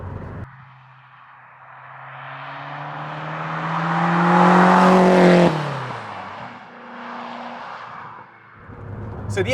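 A Lotus Esprit sports car engine revs up smoothly, its pitch climbing to a strained peak before dropping away, then settling into a lower hum and revving briefly again.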